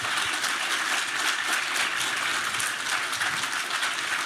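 Audience applause fills a panel discussion hall, a dense, steady wash of clapping that stays loud and even throughout with no voices rising above it.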